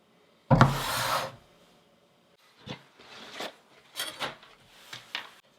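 A knife slicing through a cured loaf of cold process soap with coffee beans, first one long firm scraping pass, then several shorter rasping cuts, close and without speech.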